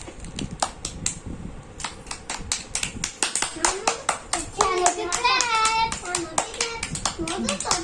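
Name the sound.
people clapping for a child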